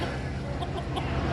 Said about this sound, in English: We have a rooster here.